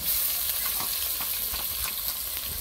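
Sliced onions fry in a pan, giving a continuous, moderately loud sizzle with soft crackling pops throughout.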